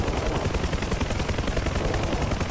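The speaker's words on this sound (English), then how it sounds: "my helicopter's flying home alone" Helicopter flying in a video game, a loud dense rotor chop that stays constant and close throughout the short stretch, with no voices over it.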